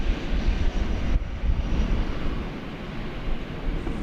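A Boeing 747 rumbles past on arrival at DFW Airport at night, a loud, steady broadband roar that stays close and sustained throughout, with no voices over it.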